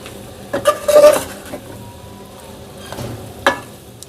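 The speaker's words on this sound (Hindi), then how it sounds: "तो अब हम इसमें डाल देंगे भिंडियाँ।" Stuffed okra being stirred into fried masala in a pan: a few close scraping and clinking strokes with a light sizzle underneath, spaced irregularly.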